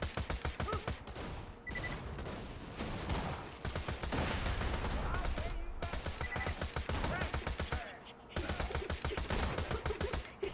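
Rapid SMG gunfire in Borderlands 2 rattles out in long, fast bursts, broken by a few short gaps as the co-op player keeps shooting.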